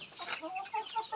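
Free-range native village chickens in a small, cramped coop, giving soft overlapping clucks and murmurs at close range, fairly quiet and continuous.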